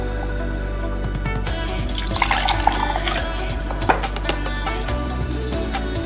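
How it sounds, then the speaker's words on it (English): Liquid pours steadily into a soup mug, a continuous splashing trickle with a few louder splashes midway, close by and without speech. "let's go ahead and pour this"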